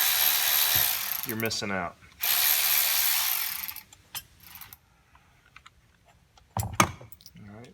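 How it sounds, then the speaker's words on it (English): A Milwaukee electric cordless ratchet spinning off carburetor bolts on a Rotax 717 engine, two loud close whirring bursts of ratcheting with sharp clicks between them, then quieter clicks and brief speech near the end. "if you don't have one of these Milwaukee electric ratchets"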